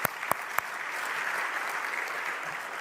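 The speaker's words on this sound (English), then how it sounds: "give him a round of applause." An audience applauds Dr. Brandon Tatum at a Wes Moore speaking event, with sustained even clapping from a sizeable crowd, opened by a few sharp close claps.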